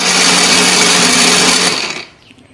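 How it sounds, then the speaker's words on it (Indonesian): An electric blender grinds chili and spices with a loud, steady, close whirring drone that holds for about two seconds, then cuts off and winds down. "Setelah ini kita siapkan blender."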